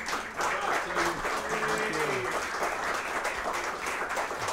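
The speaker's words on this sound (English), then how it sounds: "And give these guys another round of applause." Applause for a band at the end of a live set at a small venue, a steady wash of clapping over several seconds with voices and some tonal sound mixed beneath.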